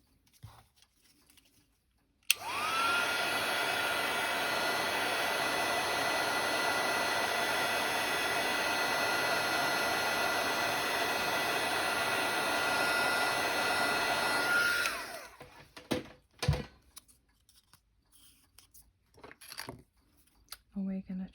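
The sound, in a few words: heat tool blowing for paper crafting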